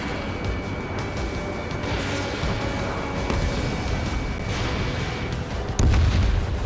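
Missile launches and explosions in the air-combat game Ace Combat 7, heard as a dense roaring rumble with scattered booms and a sharp loud burst near the end, with no talk.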